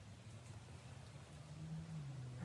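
Steady rain falling outdoors in the woods during a deer hunt, a soft continuous hiss with a low murmur that swells slightly toward the end, with no voices.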